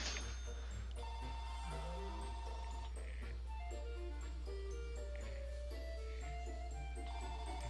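A telephone rings inside a video game, a steady electronic ring tone pattern that repeats over continuous game music and effects.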